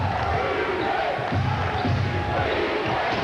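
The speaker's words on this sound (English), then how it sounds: "Now the crowd's getting involved" A basketball crowd at a 2001 World Cup qualifier between New Zealand and Australia roars in a steady, broad wash of cheering, filling the arena throughout.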